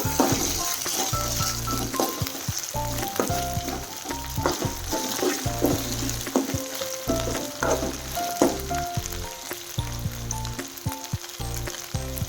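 Spinach palya with onion and spice paste is stirred in a frying pan: a constant close sizzle with repeated scraping strokes and occasional light metallic clinks of spoon on pan.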